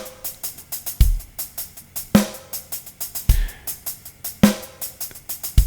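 A percussive rhythm built mostly from triplet groupings and then a group of four, with steady ticking hits and heavier accented strikes falling about once a second, played alone without talking.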